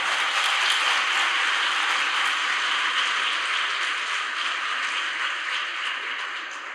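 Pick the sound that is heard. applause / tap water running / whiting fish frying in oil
applause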